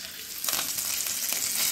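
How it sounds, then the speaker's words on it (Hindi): Hot tempering of cumin seeds and green chili poured into cooked mustard greens saag, a loud close hiss and crackling sizzle that flares up and keeps spitting steadily, no talking. "देखिए ये साग में अब छौंका लगा रही हूँ"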